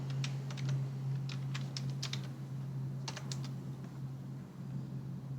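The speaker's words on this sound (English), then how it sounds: "As soon as you type that in," A computer keyboard is used to type a short live chat message, giving light, quick clusters of keystrokes with brief pauses between bursts, close and fairly quiet over a steady electrical hum.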